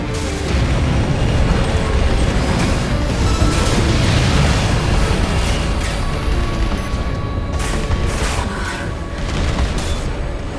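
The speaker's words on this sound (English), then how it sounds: "Systems down. The generator's going to explode." A generator explodes in the video game Armored Core VI, a dense, loud rumbling blast of booms and crackling bursts that holds steadily for about ten seconds.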